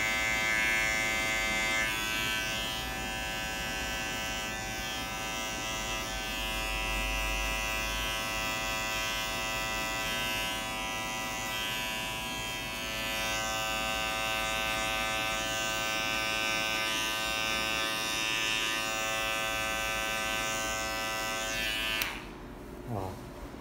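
Electric hair clippers buzz steadily and continuously while cutting a fade haircut, a close, even motor whine that cuts off near the end, with faint talk in the background.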